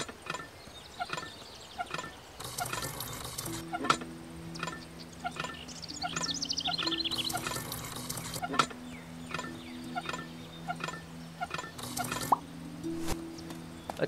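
In an Indian village management game, water splashes from a hand pump into a vessel as repeated drips and plops, over soft tonal background music.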